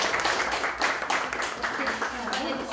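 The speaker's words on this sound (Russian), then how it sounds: "Аплодисменты, Саида." Audience applause at a school graduation ceremony in Aksay, a busy crackle of many hands clapping across the room with voices and an announcer's speech running underneath.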